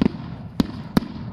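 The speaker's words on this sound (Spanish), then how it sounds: "soltando cohetes por las fiestas patronales." Fireworks set off for patron saint festivities in León, Guanajuato, three sharp distant pops spaced out over a second and a half against quiet background.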